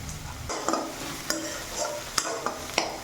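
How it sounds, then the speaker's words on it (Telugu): Chopped onions and green chillies fry in hot oil in a kadai, a soft sizzle beneath repeated scraping and clinking stirs at a steady, uneven rhythm, close and fairly loud. "అందులో తరిగిన ఉల్లిపాయలు, పచ్చిమిర్చి వేసి ఉల్లిపాయలు బంగారు రంగు వచ్చే వరకు వేయించాలి"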